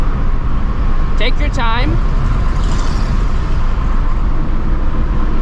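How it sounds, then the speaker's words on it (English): A manual-transmission car cruising steadily in sixth gear hums with a constant broadband road and engine drone, and a person speaks briefly over it. "now we're in 6th gear, just cruising"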